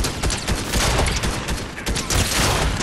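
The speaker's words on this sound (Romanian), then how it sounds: "Aud gloanțe" Dense, rapid gunfire from the video game Fortnite rattles loud and close, a continuous volley of overlapping shots filling the whole stretch.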